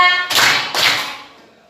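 A class clapping hands together on a teacher's count, two loud, crisp claps about half a second apart that ring out and fade.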